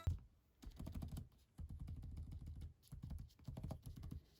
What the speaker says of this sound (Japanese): 打鍵音もせっかくなので聞いてみましょう。